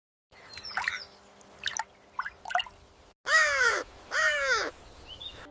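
A crow caws loudly twice in harsh, drawn-out calls, preceded by a few softer scattered bird sounds and dripping, with no talking.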